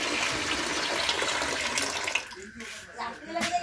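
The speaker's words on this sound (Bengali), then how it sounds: "তো আমি এখানে জল ঠল ফেলি।" Kitchen water poured into a bucket, a steady rushing splash close by that stops partway through, after which a few faint sounds and brief talk remain.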